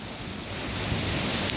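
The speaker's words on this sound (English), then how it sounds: "Rain in Ponta." Rain falling in Ponta, Texas, the first in over six weeks, a steady broadband hiss that swells slightly toward the end, close and continuous with no talk.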